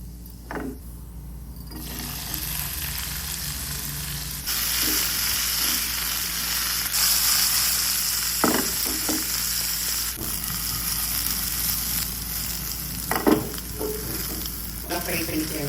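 Okra frying in oil for an okra egg fry, with a loud, continuous sizzle that swells after a quieter start, and occasional scraping stirs of a spatula in the pan.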